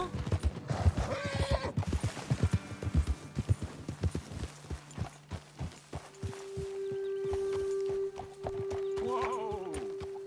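Horses' hooves clip-clop across ground in Red Dead Redemption 2, a brisk irregular trotting rhythm up close that slows toward a stop, with a horse whinnying and a long snort near the end.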